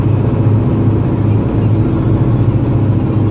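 A 1998 Volkswagen Golf cruising on the Autobahn gives a steady, loud broadband road and engine roar with continuous wind and tyre rush and no breaks.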